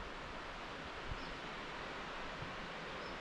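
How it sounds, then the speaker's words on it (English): A waterfall near a forest trail in Santa Ana, El Salvador roars as a steady, broad wash of falling water, distant and even throughout, with faint rustling layered in and no voices. "you could see the waterfall. You could hear it too."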